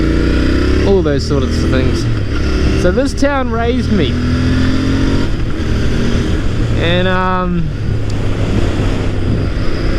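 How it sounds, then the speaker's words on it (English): A Royal Enfield Interceptor 650 motorcycle engine revs in several rising and falling bursts at close range, loud under someone talking throughout. "Oh my god, this bike sounds so good."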